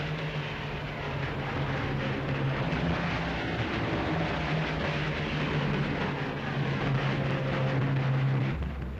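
A squadron of military planes takes off in pairs from two runways, their engines making a continuous loud roaring drone with a steady low hum throughout.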